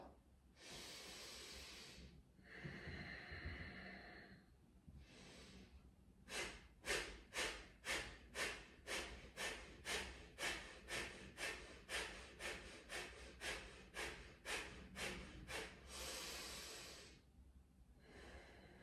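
Rhythmic pumping breaths from a yoga breathing exercise: a few slow, long breaths give way to a fast run of about twenty sharp, even exhales through the nose, and then a longer breath, close and clear.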